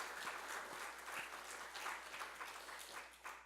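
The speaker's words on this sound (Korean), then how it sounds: "여러분을 포함해서 이 땅의 모든 어버이들에게 우리 감사와 사랑의 박수를 보내시기" A church congregation claps during a Sunday service, a quiet but steady round of applause with distinct individual claps and a low background hum, no talking.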